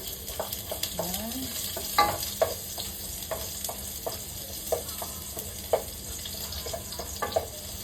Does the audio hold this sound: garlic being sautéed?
yes